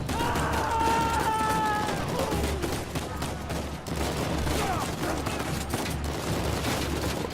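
Gunfire during a riot fight in the video game Uncharted 4, with dense bursts of shots and crowd commotion throughout and a game voice speaking over the noise.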